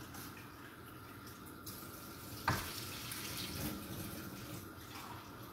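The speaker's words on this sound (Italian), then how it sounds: "Metto un bel bicchiere di acqua." Water poured from a glass into a pan of half a kilo of pasta, a soft continuous splashing and trickling with one brief louder splash midway, quiet and without speech.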